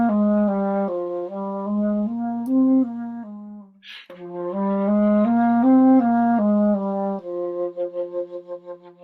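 A low flute, likely alto or bass, plays a jazz exercise in even straight eighth notes, a clear stepwise melody with a short breath break near the middle, sounding close and steady with no talking.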